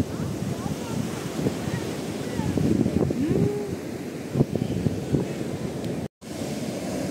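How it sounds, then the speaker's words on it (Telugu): Rough sea waves surge and wash onto the shore at Thummalapenta Beach, a steady broad roar mixed with gusty wind buffeting the microphone, with a brief dropout near the end. "అలలు ఉధృతంగా ఉన్నాయి"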